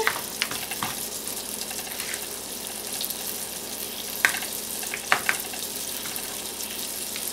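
Flour-dredged liver slices fry in a pan, a soft steady sizzle at moderate distance with a few sharper crackles and spits standing out.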